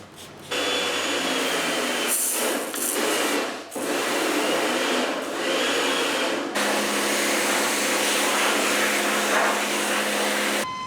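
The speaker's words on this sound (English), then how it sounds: "I'd heard the Karcher pressure washers could run off a butt, but never really believed it" A Karcher pressure washer cleaning a Toyota MR2's car subframe runs with a loud, steady motor whine and hissing spray, briefly dipping a few times before resuming at full strength.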